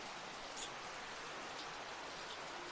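Rain falls outdoors as a steady, even hiss, faint and continuous with no voices.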